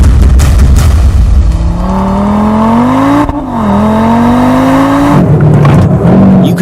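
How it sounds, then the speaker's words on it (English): A loud 2022 Audi RS3 engine revs hard on a launch control start and accelerates through rising gear shifts, with a brief dip at a shift and a harsh roar close by. "Let's begin with the launch control start with our new launch control traffic light"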